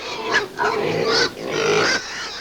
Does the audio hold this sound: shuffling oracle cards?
no